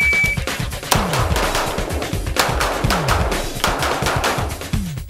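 Loud, close gunfire during a practical shooting drill fired while moving from right to left, a rapid, steady string of sharp reports with about a dozen shots in quick succession.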